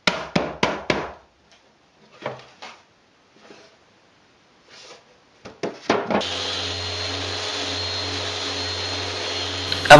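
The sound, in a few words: power sanding wooden furniture pieces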